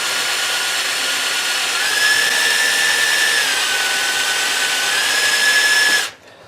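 A hand drill bores through copper pipe, giving a steady high whine whose pitch dips and rises as the bit bites, loud and close for about six seconds before stopping abruptly.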